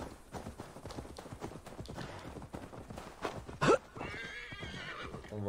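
A horse's hooves clip-clop in a steady gallop in the Assassin's Creed Valhalla video game, with a loud neigh breaking through near the end over faint game background sound.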